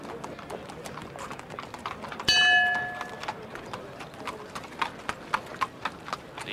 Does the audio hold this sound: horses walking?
yes